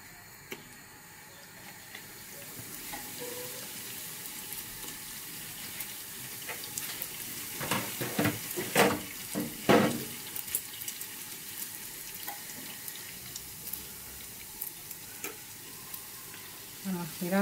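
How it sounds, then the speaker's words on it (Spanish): Churros sizzle and bubble steadily in hot frying oil, with louder crackling bursts and stirring clatter partway through, close and alone without talk. "terminamos friendo los demás"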